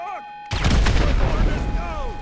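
Grenade blasts in GTA 5 Online go off in a loud, dense burst of booming explosions after a brief quiet, with gunfire-like crackle and game speech mixed underneath.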